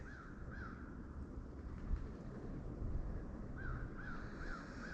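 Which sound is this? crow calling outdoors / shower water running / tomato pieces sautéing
crow calling outdoors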